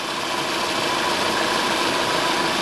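A car's AC compressor runs steadily under the hood as part of an air-conditioning repair, giving off a constant, dense mechanical whir and hiss that holds the same level from start to finish, with no voices.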